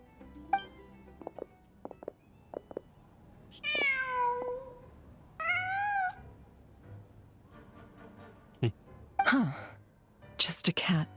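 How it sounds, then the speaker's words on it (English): A cat in the video game Genshin Impact gives several drawn-out meows with rising and falling pitch, mixed with short sighs and gasping sounds, heard at moderate volume amid quiet game ambience. "Just a cat."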